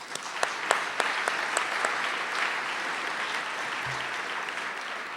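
Audience applause at a State of the State event thanking corporate sponsors, a sustained moderate wash of many hands from a large crowd, with a few sharper nearby claps standing out early and faint voices underneath.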